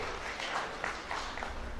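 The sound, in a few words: applause for Mr. and Mrs. Eddie Kwame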